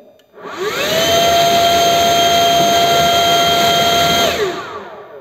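A Stihl BGA 57 battery-powered leaf blower spins up, holds a loud, steady high-pitched whine and rushing airflow for several seconds, then winds down, close to the microphone.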